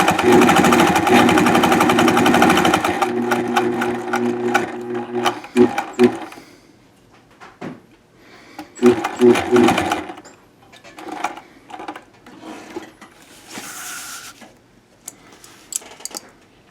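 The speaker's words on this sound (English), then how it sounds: "So that's all the sewing we have to do on the pocket." A sewing machine stitches a skydiving BOC pocket in a workshop, with a long loud run followed by several shorter bursts and stops, plus scattered clicks and handling noises in between.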